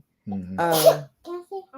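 A single sharp sneeze comes close and loud, with brief murmured speech just before and after it.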